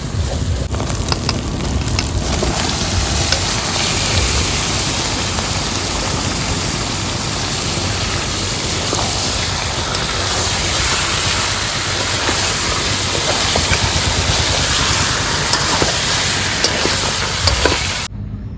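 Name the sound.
big bagha shankar fish frying in spice masala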